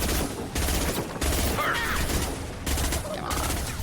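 Sci-fi shooter gunfire from Mass Effect 2, a steady dense fusillade of rapid shots filling the whole stretch, loud and close, with brief dips between volleys.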